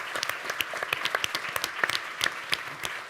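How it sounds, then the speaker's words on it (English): A round of applause at a climate policy debate, a modest audience clapping steadily at moderate distance with no talking over it. "please join me in a round of applause for Kate"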